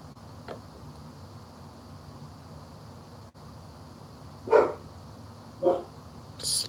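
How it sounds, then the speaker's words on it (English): A dog barks indoors, a few short, distant barks spaced apart over a steady background hiss. "Excuse my dog. I don't know why she's barking."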